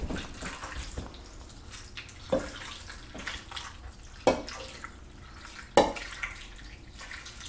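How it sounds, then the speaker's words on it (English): Beef broth and water are poured into a crock pot, giving soft liquid splashing with a few sharper splashes and clinks spaced a second or two apart. "I'm going to put my beef broth in and my water."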